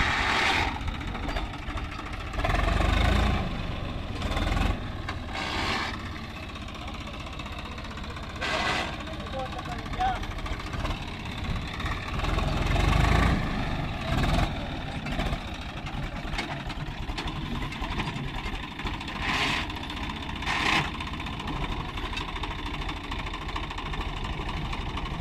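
A rumbling diesel engine of a Swaraj 744 XT tractor labors under load on a steep climb, its knocking pulse surging and easing, with voices talking over it throughout.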